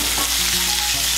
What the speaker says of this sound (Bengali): আলুগুলোকে আমি লাল করে ভেজে নেব।